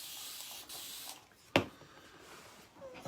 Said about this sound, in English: give it a quick little spray.